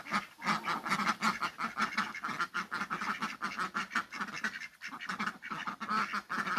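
A flock of hungry ducks quack rapidly and insistently, overlapping calls in a fast continuous chatter close by, with no talk.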